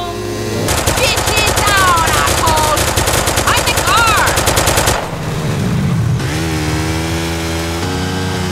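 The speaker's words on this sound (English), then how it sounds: "Carl, you drive, I'll shoot!" Rapid bursts of gunfire from a drive-by shootout in GTA San Andreas ring out loud and dense for about four seconds, then give way to engine and music-like tones with voices underneath.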